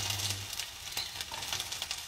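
Ginger, onion and garlic sauté in a pan for a mussel, squash and spinach dish: a continuous soft sizzle with occasional light stirring scrapes, no talking.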